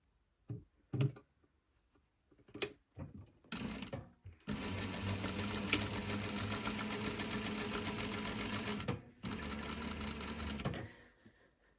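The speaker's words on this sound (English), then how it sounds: "now I'm going to sew my cuff together" A few clicks and handling noises, then a sewing machine runs steadily and close for several seconds stitching a fabric cuff, a fast mechanical whir with a brief pause near the end.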